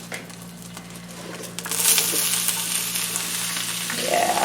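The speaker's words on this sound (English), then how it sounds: "Throw in some bok choy." Bok choy hits very hot oil in a pan, a quiet hiss that swells into a loud, crackling sizzle midway and keeps spitting steadily close by.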